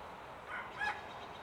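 A rooster crowing in a video game, heard as two short tonal calls that rise slightly above a steady hiss, with no voices over them.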